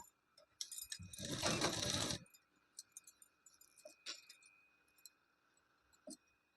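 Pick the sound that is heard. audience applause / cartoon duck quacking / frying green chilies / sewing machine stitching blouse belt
sewing machine stitching blouse belt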